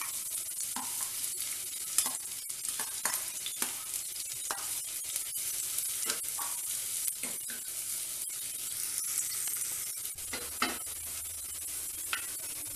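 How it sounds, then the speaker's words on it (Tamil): Onions roast in a pan, giving a constant crackling sizzle with repeated scraping stirs and light taps of a spatula at an even, moderate level. "இப்போ வெங்காயத்தை ரோஸ்ட் பண்ணிடுவோம்."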